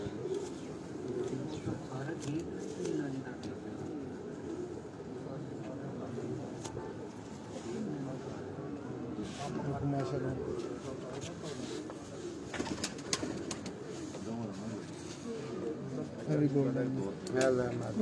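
Golden pigeons coo repeatedly with low, rolling calls at close range, overlapping one another throughout, with people talking intermittently in the background.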